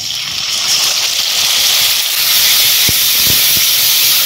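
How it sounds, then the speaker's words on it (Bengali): Boiled, ground spinach paste and tomato added to a hot pan of onions fried red with bay leaf, a loud continuous steamy hiss, close up, with a few soft knocks near the end. "এবারে দিয়ে দেবো সেদ্ধ করে বেটে রাখা পালং শাক এবং টমেটো"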